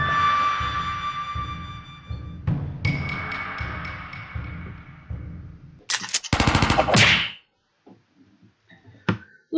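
Gunfire in the stickman video game The Henry Stickmin Collection: rapid machine-gun bursts over a rhythmic game soundtrack, then a few loud sharp volleys before falling near-silent with scattered isolated shots, no one talking.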